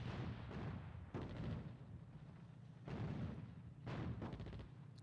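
Artillery in the WWII desert strategy game Attack At Dawn: North Africa, with repeated heavy booming shots and rumbling blasts at an irregular pace, fairly distant and muffled, with no talk over them.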